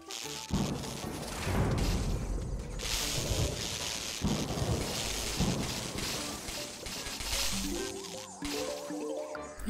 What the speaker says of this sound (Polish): taką chmurkę strzelającą piorunem